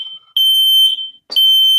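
A Nest Protect smoke alarm sounds a loud, piercing high-pitched beep pattern, two tones in quick succession broken by a short gap and a brief clatter.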